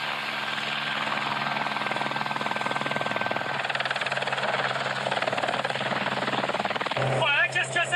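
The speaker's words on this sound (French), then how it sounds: "C'est l'hélico et on pourra lui dire ça, il nous touche pas" A helicopter passes low and loud over a rally car on an African desert rally route, its steady rotor and engine roar filling the scene throughout, with a sharp burst near the end.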